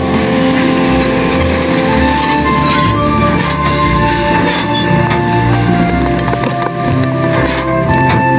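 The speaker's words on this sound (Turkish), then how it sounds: "Trenimiz Dorfli'ye varmak üzeredir." A train arriving at Dorfli station rolls along steadily with loud rumbling and clattering wheels, thin metallic squeals rising over the continuous roar.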